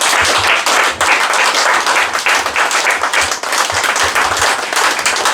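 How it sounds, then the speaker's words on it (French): A church congregation at an ordination service claps and cheers loudly and continuously, a dense wash of applause with no break. "Est-ce qu'on peut acclamer le Seigneur pour le serviteur de Dieu?"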